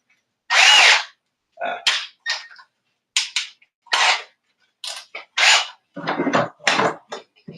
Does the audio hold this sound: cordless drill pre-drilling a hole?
yes